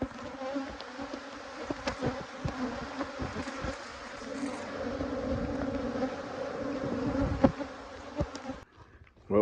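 Dense, continuous buzzing of many honeybees around hive colonies in early spring, a close, steady drone with occasional louder passes of individual bees.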